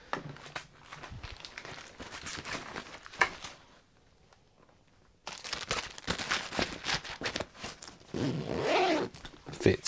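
Zipper on a Billingham Mini Eventer camera bag, a weather-sealed zip, opened and closed in a few close rasping pulls with handling rustle around them and a quiet gap in the middle.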